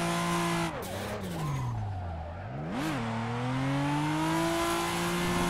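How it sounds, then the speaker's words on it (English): A street car drifting in a racing video game played on a 900-degree wheel, engine held at high revs with tire squeal and skidding, and pitch swooping down and back up as the car slides. No one talks. "Street drifting going on right now."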